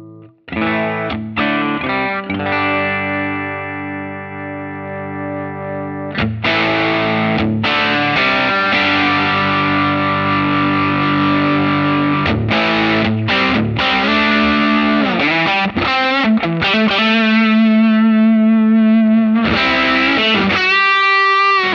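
A distorted electric guitar on the bridge pickup runs through a Line 6 Helix Ventoux amp model with the drive turned up, playing sustained chords and quick riffs with short pauses, loud and alone.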